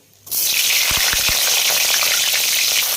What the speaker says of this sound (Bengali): এগুলো সব ভেজে নিতে হবে ফুলকপিটা ভেজে নেবো